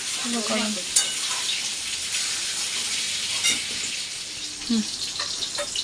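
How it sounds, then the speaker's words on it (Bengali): Pointed gourd sizzling steadily in hot oil, with a few sharp utensil clacks and stirring sounds breaking through the hiss. "আমার পটল ভাজা হয়ে গেছে তুলে নিচ্ছি"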